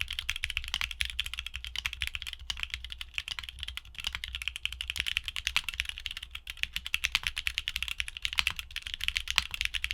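Clacky mechanical keyboard switches being typed on in a sound test, a rapid, continuous stream of sharp, bright clicks and clacks close to the mic with no talking.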